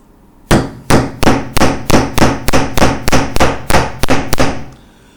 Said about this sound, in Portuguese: se a cabeça do prego for encostada na madeira e eu martelar aqui